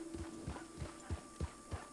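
A horse walks through the middle of a town in WildRP, a Western roleplay game, its hooves landing in an even, moderately quiet clip-clop rhythm with no talk.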